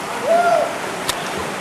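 The Tuarim River flows in a steady, close wash of broadband rushing water that lasts throughout, with one brief sharp tick near the end.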